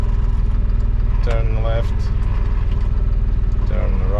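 A Fendt Vario tractor drives under remote control, its engine throbbing low and steady throughout, while a voice gives short driving commands over it.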